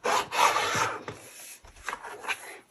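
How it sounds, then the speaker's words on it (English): A rotary cutter slides along a ruler through quilt fabric, giving close, dry rasping strokes in a few bursts with short pauses between. "take your rotary cutter and your ruler from corner to corner and trim that section away"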